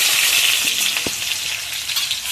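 Chopped onion hits hot oil in a pan for a loud, bright, steady sizzle with a single soft knock partway through, no talking.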